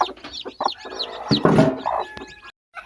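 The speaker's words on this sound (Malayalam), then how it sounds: "ഈ ഒരു അമ്മക്കോഴിയെ പുറത്ത് വെച്ചിരിക്കുകയായിരുന്നു കേട്ടോ അപ്പോൾ അതിനെ പിടിച്ച് ഇങ്ങോട്ട് ഇടാം" A mother hen clucks and squawks in agitated bursts while being caught and moved, close by and fairly loud, with handling noises over nearly three seconds before it cuts off.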